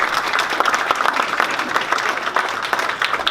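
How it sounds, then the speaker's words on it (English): A crowd applauds the mayor at a local civic gathering. The clapping is steady and moderately loud, with many dense, overlapping hand claps and no talking. "Let's give him a round of applause."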